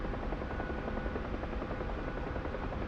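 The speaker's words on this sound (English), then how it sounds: "the helicopter is still kind of struggling to get over" A UH-1 Huey helicopter in DCS labouring at high altitude in thin air, its turbine and rotor making a loud steady droning roar with a rapid rotor pulse throughout.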